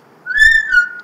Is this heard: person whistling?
yes